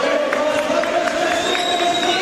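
Arena crowd at a basketball free throw between Melbourne United and Cal Baptist, a steady dense roar with cheering swelling around, continuous and fairly loud throughout, with a commentator talking over it.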